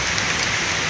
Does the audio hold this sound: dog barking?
no